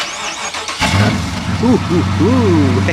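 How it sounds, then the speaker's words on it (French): An American car is cold-started by remote start: a short crank catches about a second in, then the engine settles into a steady, close idle while voices talk over it. "Attends, faut faire un petit cold start. On peut le démarrer à distance."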